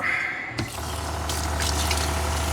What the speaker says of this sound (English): Actually, just rinse this bowl out.